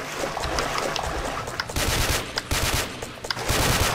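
Rapid automatic gunfire from the voxel shooter Ace of Spades rattles continuously, with dense bursts and sharper individual shots standing out, loud and close with no voices.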